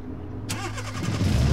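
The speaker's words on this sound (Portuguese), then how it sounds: "Vamos escutar o barulho do motor." A turbocharged car engine in the game Automation (BeamNG Drive) cranks and starts, then settles into a loud, rough idle with a rising rumble.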